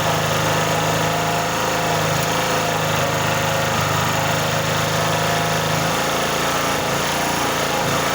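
An LPG-converted generator engine drones loudly and continuously up close, its pitch and load wavering as the governor hunts, with a noticeable drop in tone near the end.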